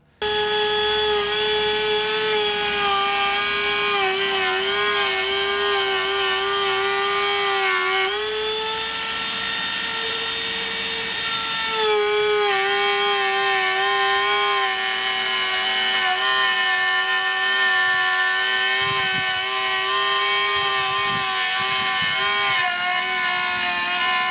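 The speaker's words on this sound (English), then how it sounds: "I may as well go and use this router to do it and test it out. I'm gonna cut some grooves." Milwaukee M18 cordless router cutting 10mm-wide, half-inch-deep grooves in wood, a loud, continuous high-pitched motor whine right up close that dips slightly under load and recovers during the cut.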